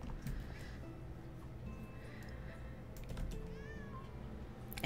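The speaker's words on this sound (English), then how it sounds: "I pet the kitty." A cat being petted in the cozy tavern video game Travellers Rest, with a couple of soft meows rising over a steady hum of background game ambience.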